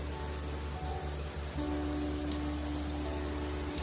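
Clear stream water flows steadily through a jungle, an even, constant rushing wash close by, with a faint repeating tick and no speech.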